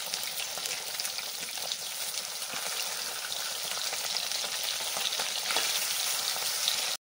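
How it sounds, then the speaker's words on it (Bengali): Fish turned over to fry its other side in mustard oil crackles with a steady, moderately loud sizzle and pops that swell slightly toward the end. "আরেক পিঠ ভেজে নেব উল্টে পাল্টে।"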